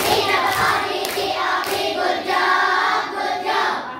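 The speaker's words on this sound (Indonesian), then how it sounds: "kita kasih tepuk gurjab buat Zulfi" A group of people clap together in a sustained, steady burst of applause for a classmate during a teachers' training session, loud and close with no talk over it.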